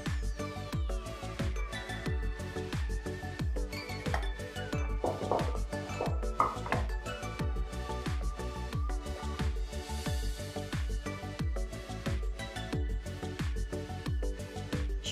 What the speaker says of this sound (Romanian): Și va trebui să amestec până când se va forma o cocă.